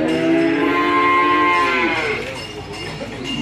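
A head of cattle at a livestock market in Kebumen moos loudly and close by in one long, sustained call that fades out, with no talk over it.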